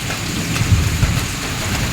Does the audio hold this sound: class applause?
no